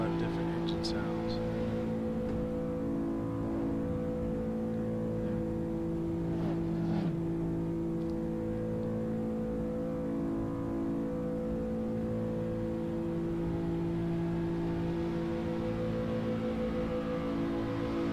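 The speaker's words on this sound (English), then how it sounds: "When you pass them, they are different engine sounds." Several cars race on a highway in the Tokyo street racing game Shutoko. Engine drone stays steady and continuous throughout, with a brief louder swell midway as another car is passed.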